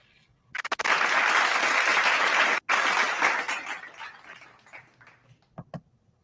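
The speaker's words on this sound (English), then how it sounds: "Let's play this applause real quick." Recorded crowd applause played back, starting abruptly after a few clicks, a loud dense burst of clapping with a brief cut partway, then fading away over several seconds into near silence with a couple of soft knocks.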